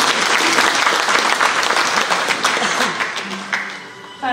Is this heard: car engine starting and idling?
no